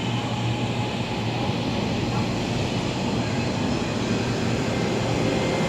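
An LRT light rail train in Kuala Lumpur, Malaysia runs steadily with a continuous rumble and a broad rushing hiss. Nothing else stands out, and no one speaks.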